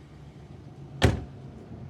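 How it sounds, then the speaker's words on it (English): A car door on a 1983 Datsun 280ZX slams shut once, a single close, solid thud standing out against a quiet cabin background with no talking. "Doors close nice."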